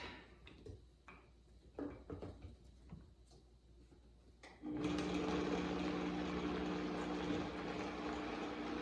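Red pepper walnut dip (muhammarah) is blended, starting with a few soft clicks and taps before a loud, steady motorized whir kicks in about halfway and runs on without pause.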